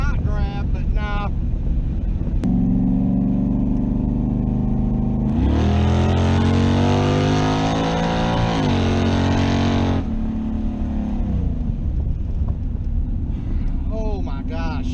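Chevrolet Camaro with a new cam on drag radials, its engine droning steadily then swelling into a loud, rising acceleration run in first gear before settling back, with wind buffeting and some talk around it.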